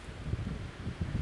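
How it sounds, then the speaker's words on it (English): Wind blows during a blizzard in Nova Scotia, a faint steady rush with low gusting rumble against the microphone, no voices. "Yeah, it's a bit windy actually."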